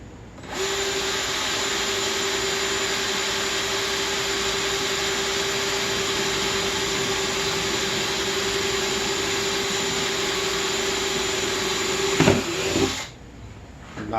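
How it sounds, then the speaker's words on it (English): A power drill runs at a steady high whine for about twelve seconds as it bores into a plastic planting container, loud and close, then cuts off abruptly with a brief clatter at the end. "So I'm going to drill just below it"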